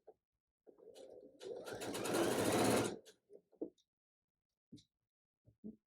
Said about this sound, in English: My bobbin is low, so it's gonna fuss at us.